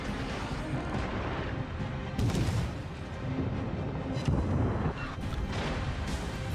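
Naval guns fire high-explosive shells in the World of Warships video game, giving a continuous heavy rumble of booming salvos, with louder bursts standing out near the middle and end.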